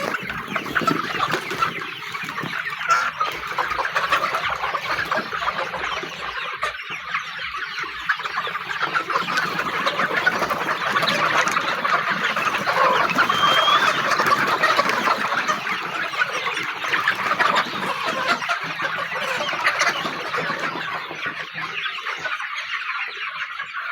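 A flock of Sonali hybrid chickens clucks continuously and densely, many birds overlapping close by with no pauses throughout.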